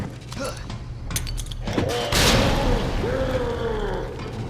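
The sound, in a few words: grenade explosion in video game Resident Evil 2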